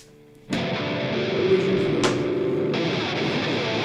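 Lubricant sprayed from a can in a steady, loud hiss lasting a few seconds after a quiet start, with a brief sharper burst partway through and no talk.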